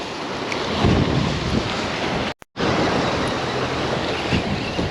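Strong wind roars across an open shoreline by drains where shrimp-baited fishing goes on, with waves washing in steadily beneath the buffeting gusts; the loud, broadband rush runs continuously, broken only by one abrupt brief dropout midway.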